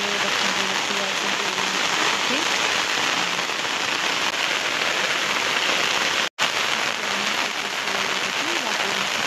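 Heavy monsoon rain pours steadily onto a farm field planted with ridge gourd, a dense, even hiss that never lets up, with a faint voice underneath.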